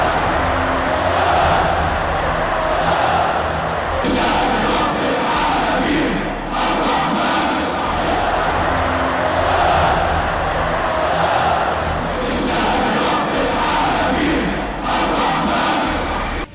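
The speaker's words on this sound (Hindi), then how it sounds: "भीड़ ने अल्लाहू अकबर के नारे लगाए" A large crowd of supporters chants in loud, rhythmic repeated waves as freed Palestinian prisoners are carried on shoulders in Gaza, the chanting continuous and close with brief swells and dips.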